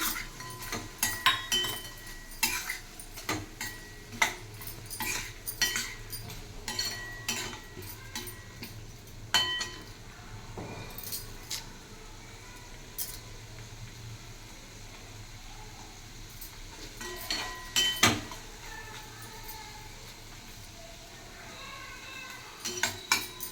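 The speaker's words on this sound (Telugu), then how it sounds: "లాస్ట్ అండ్ ఫైనల్గా మనం ఈ వడియాలని ఇందులో వేసి కలిపేసుకుందాం." A spoon stirs fried vadiyalu into bottle gourd milk curry in a pan, with repeated clinks and scrapes against the metal and a soft background hiss, no talking.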